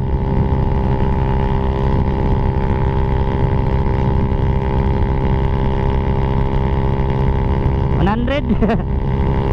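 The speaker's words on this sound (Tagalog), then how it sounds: "Iba talaga pag walang silencer." A motorcycle with a Taikom power pipe exhaust and no silencer, running at speed with a loud, constant engine drone close to the rider, and a brief voice near the end.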